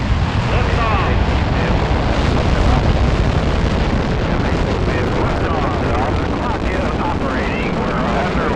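Rocket engine roar at liftoff of John Glenn's launch, a loud, dense, continuous rumbling blast with heavy low end, steady throughout, with voices faintly heard under it.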